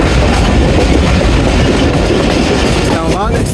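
Jaffar Express passenger train running between Attock and Lahore, heard as a continuous loud roar of wheels on rails with rhythmic clatter and a brief wheel squeal near the end.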